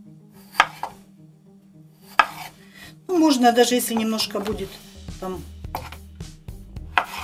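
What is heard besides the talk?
knife chopping potatoes into cubes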